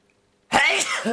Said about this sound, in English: I'm sneezing on it because it's true.